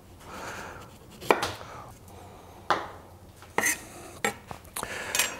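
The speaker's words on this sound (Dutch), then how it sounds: "En daar ga ik eventjes het vlees eigenlijk tussen de partjes uitsnijden." A knife cuts segments out of a hand orange, giving a series of separate sharp clicks and taps on a board, spaced irregularly over a quiet background.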